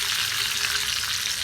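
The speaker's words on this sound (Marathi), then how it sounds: "एवढा मध्ये कढीपत्ता द्यायचा तडका" Curry leaves crackling in hot oil with garlic for a tempering in tomato chutney, a loud, dense, continuous sizzle heard up close with no voices.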